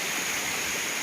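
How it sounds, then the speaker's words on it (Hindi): Panther Waterfall on the Panther trek in Churan Valley pours in a steady, loud broadband rush of falling water, continuous and close with no voices over it. "ये है पेंथर वाटरफॉल।"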